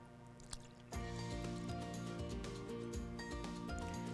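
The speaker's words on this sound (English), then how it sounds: "just pour that into our bowl" Foamy mixture of yeast and milk poured into a bowl for cinnamon roll dough, a steady close liquid stream with soft splashing that starts abruptly and continues evenly to the end.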